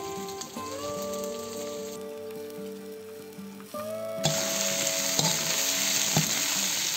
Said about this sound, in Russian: Обжариваем их кабачки и баклажаны также до готовности.